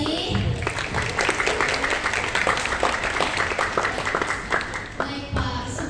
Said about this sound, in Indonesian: Kasih tepuk tangan dulu gak sih?